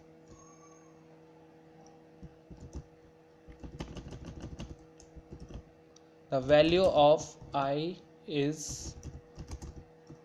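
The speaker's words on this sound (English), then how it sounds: "let me type the value of I" Fingers tap a computer keyboard while someone writes a beginner Java for-loop program. Quiet, quick clusters of keystrokes come in short bursts, then someone speaks over sparse further clicks.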